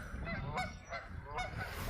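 A few loud Canada goose honks come in separate bursts, one after another, against a rumbling outdoor background in Edmonton, Alberta.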